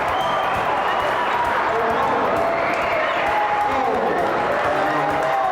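A high school basketball crowd roars loudly and continuously after a steal and slam dunk, cheering and applause filling the gym at a steady high level with voices mixed in.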